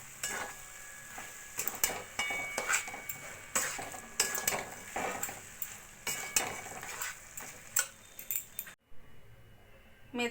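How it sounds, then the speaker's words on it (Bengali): A spoon scrapes and clinks against a pan while ghee is stirred into cooked fenugreek greens, irregular metallic knocks and scrapes close up, ending in a short pause. "এবার একটু ঘি দিয়ে আমি গ্যাসটা বন্ধ করে দেবো ঘিটা ভালো করে মিশিয়ে নেব"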